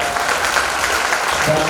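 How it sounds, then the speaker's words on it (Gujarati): Audience clapping at a school program, a dense, steady wash of hands from a hall crowd, fairly loud and continuous throughout, with a voice faintly mixed in. "તાળી પાડો"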